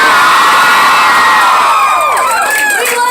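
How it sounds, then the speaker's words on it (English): A loud concert crowd at a live pop show in Denver cheers and whoops continuously, a dense roar of voices with high shouts rising over it for the whole stretch. "I think you guys might be one of the loudest crowds that we've had"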